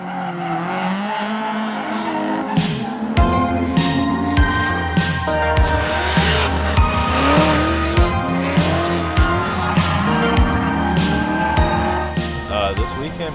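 Cars drifting on a track with loud, sustained tire squeal and revving engines, dense and continuous throughout, with voices faintly mixed in.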